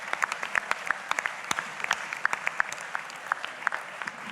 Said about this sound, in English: Big applause for this pitch.